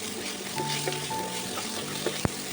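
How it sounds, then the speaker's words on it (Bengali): Onions frying in a pan until reddish, giving a steady close hiss with scattered small pops, a faint humming tone underneath and one sharp click near the end. "পেঁয়াজটা প্রায় লাল লাল করে ভাজা চলছে"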